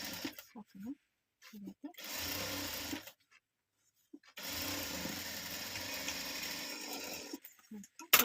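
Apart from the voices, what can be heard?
sewing machine stitching fabric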